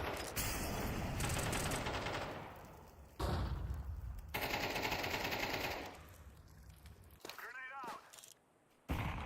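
Counter-Strike 2 gunfire plays as long, loud bursts of rapid automatic shots with brief pauses between them, and a voice talks over the shooting.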